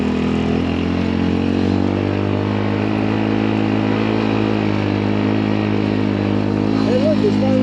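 A Polaris RZR 200 EFI idling and revving in snow, a loud steady engine drone with harmonic hum throughout, with people talking over it.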